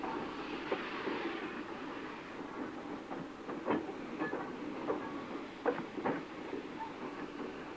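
A distant train arriving at Southwold Station rumbles and clatters with soft hissing and a few sharp metallic clanks, fairly faint throughout.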